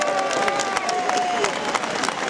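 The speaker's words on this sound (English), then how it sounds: "Yeah, let's give them a big hand, yeah?" A crowd applauds police officers at an outdoor pre-march rally, a dense burst of clapping with some cheering, loud and close.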